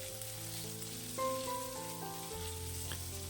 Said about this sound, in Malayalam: ഇനി ഒരു സവാളയോടെ ഇട്ട് വീണ്ടും ഒന്ന് നല്ലവണ്ണം ഒന്ന് വഴറ്റിയെടുക്കണം.